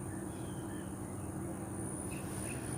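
A flock of crows outdoors, cawing a few times in the distance over a constant steady background hum.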